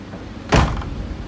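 A 1970-71 Dodge Challenger door swings shut with a single solid, close thud after its window repair, standing alone against a quiet background.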